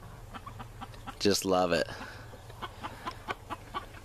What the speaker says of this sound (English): Wish little rooster would shut up